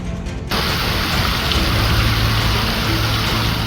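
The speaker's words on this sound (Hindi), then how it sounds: "अयोध्या के शहरी से लेकर ग्रामीण इलाकों में बारिश देखने को मिली है।" Steady rain falls across Ayodhya, a dense, loud, even hiss of drops hitting surfaces that starts abruptly after a brief moment of different noise and carries on without voices.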